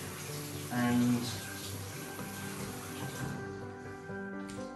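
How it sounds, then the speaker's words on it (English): A newly fitted basin tap runs water in a bathroom, a steady splashing hiss that continues throughout while a person speaks briefly over it. "we have hot and cold running water"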